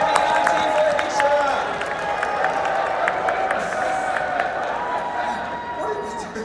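A large conference crowd at a data-visualisation competition cheers, whoops and claps for two contestants. The steady roar of noise runs throughout with a sustained tone underneath.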